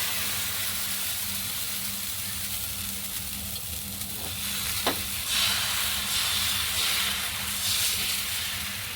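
Ragi dosa batter on a hot griddle gives a steady close sizzle and hiss with a low hum beneath, then a brief sharp tick and a brighter burst of sizzling in the second half.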